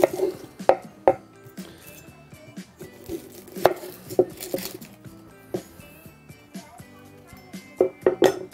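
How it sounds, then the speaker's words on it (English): A large white onion chopped with a knife on a board, sharp irregular knocks scattered through the clip alongside faint clinks of kitchenware, close and fairly loud. "And we'll start with our onion, chopping up our onion."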